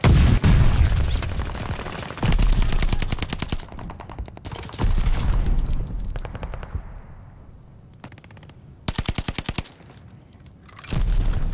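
Bursts of automatic rifle fire at a hardpoint in Call of Duty: Vanguard, close and loud, coming in repeated volleys separated by short lulls, with thuds and an explosion in between.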